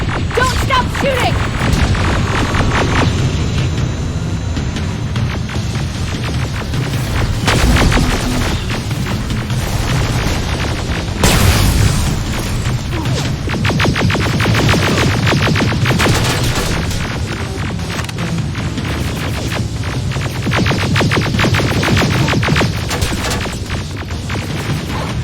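Continuous loud battle noise from the video game Terminator Resistance, with dense gunfire and heavy explosive booms rolling on without a break across the whole stretch.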